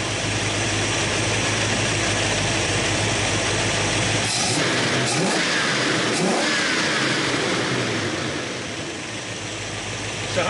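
A 1966 Ford Mustang engine hums steadily during a tune-up, then its revs climb partway through, the pitch rising before settling back down.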